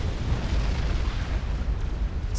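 Missile explosions in the Supreme Commander strategy game form a dense, continuous low rumble of booms and bursts that stays loud throughout.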